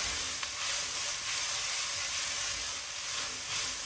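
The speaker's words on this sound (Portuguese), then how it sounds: "Agora o alho. mais uma refogada." Garlic sautéing in a pan for a Mexican chili, giving a steady, even sizzle and hiss close by, with no speech.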